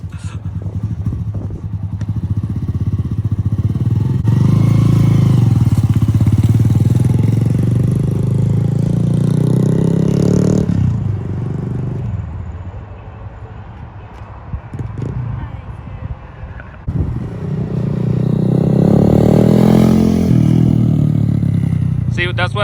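A Honda Grom motorcycle engine rises and falls as it is ridden, loud and close, with revving swells and quieter stretches between them.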